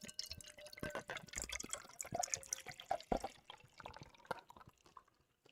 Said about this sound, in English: we got some good beer pour sounds